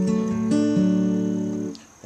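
An acoustic guitar fingerpicks the intro pattern of a song, with the thumb on the low strings and a toggling finger, producing a brief, clear run of ringing plucked notes that sustain and then fade.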